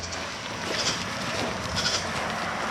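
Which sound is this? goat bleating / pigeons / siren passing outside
goat bleating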